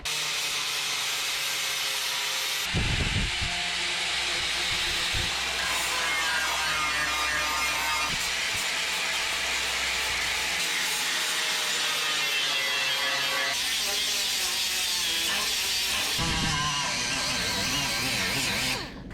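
A flap disc grinds the cut metal edge of a 1976 GMC short bed in a loud, continuous, whining rasp that lasts nearly twenty seconds, with short breaks near the start and end.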